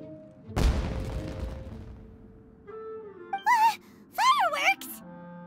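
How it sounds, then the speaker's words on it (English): Fireworks burst in Genshin Impact: one sharp boom with a crackling tail opens the scene, followed by whistling, warbling effects that rise and fall, and a quieter hum between them. "It sounded like fireworks."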